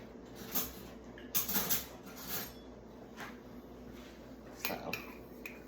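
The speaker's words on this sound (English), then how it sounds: "I'm gonna get another spoon." Cutlery and dishes clink as a spoon is pulled out in a kitchen while high-protein oatmeal with chia seeds is made; a few light, scattered metallic taps and rattles over quiet room tone, close by.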